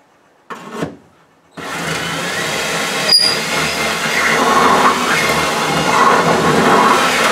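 A drill bores a small pilot hole in a 1979 Firebird, starting with a brief burst and then a steady, close grinding whir that runs to the end.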